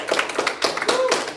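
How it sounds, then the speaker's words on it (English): A small group at a kung fu class claps for a new student, with uneven separate hand claps at close range and voices talking faintly underneath. "You can clap for her."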